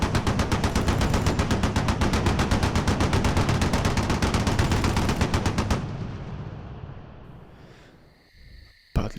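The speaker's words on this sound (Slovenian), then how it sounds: "Na nas so od vseh strani padali streli." Dense, rapid automatic gunfire in a dramatized wartime reenactment at a commemoration, loud and continuous bursts for about six seconds, then fading into a rumbling echo and near silence before a brief sharp sound at the end.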